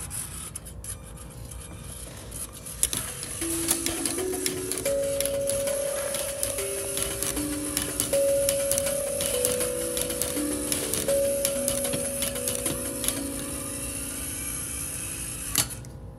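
Robot-driven tongue drum ringing two alternating tonal notes over a continuous mechanical motor whir and clicking, close and steady.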